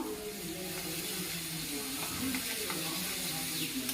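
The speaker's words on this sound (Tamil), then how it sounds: "ஹை ஃப்ளேமில் வச்சு கொஞ்சம் நேரம் வச்சு பொறிப்போம்" Potato strips deep fry into French fries in hot oil over a high flame, a loud, dense sizzle and bubbling hiss that continues unbroken throughout.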